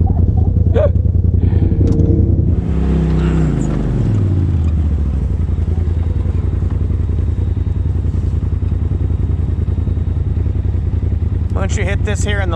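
An off-road vehicle on a steep hill-climb trail, its engine loud and close, with a rising then falling rev followed by a sustained roar. People talk over it near the end.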